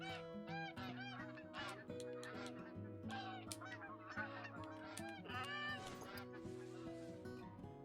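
A flock of Canada geese in theHunter: Call of the Wild honks continuously, many overlapping nasal calls, faint and distant-sounding, with no speech.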